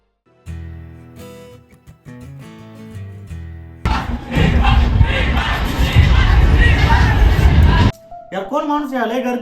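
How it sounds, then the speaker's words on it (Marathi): A large crowd gathered at a tribute event cheers and roars loudly for about four seconds, following harmonic tonal sounds and giving way to nearby voices afterward. "लय गर्दी आहे यार."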